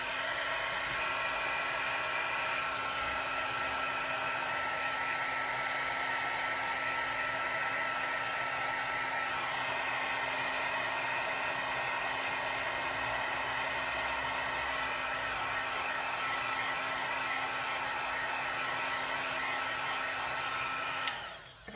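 Hair dryer blowing on a handmade paper card, a steady loud whooshing roar held close for about twenty seconds before cutting off at the end.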